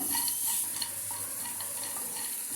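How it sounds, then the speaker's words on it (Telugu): Ghee frying on a stovetop for chakra pongali, with a steady hiss and light stirring scrapes close by, no voices. "స్టవ్ ఆన్ చేసుకున్నామండి దీనిలో కొంచెం నెయ్యి వేసుకుందాము ఇవి చక్కగా ఎగిపోవాలి కదా ఒక లైట్గా ద్వారగా వేయించుకుందామండి"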